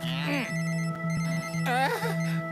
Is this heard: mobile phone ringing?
yes